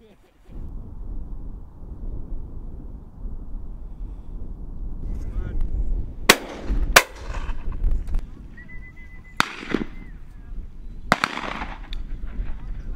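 Shotguns firing at a pheasant and partridge shoot outdoors: four or five sharp, fairly distant reports spaced a second or two apart over steady wind rumble, one followed by a brief whistle-like tone.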